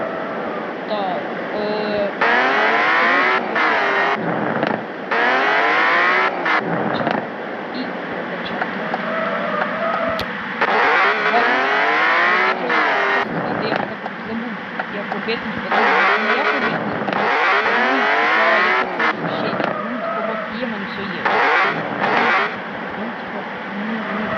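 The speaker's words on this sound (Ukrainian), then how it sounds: "трохи так на БМВ прокаталися" A BMW car's engine revving and pulling through gears as it drives, loud and close from inside the cabin, rising and falling in repeated bursts, with people talking over it.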